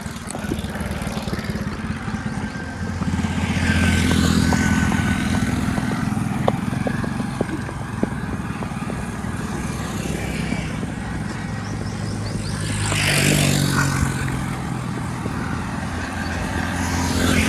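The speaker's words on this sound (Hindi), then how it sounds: "क्योंकि दोनों जानिब से ट्रैफिक है" Road traffic streams past on both sides of a rural road, engines of cars and motorbikes swelling and fading as vehicles go by, with a steady mid-level hum throughout.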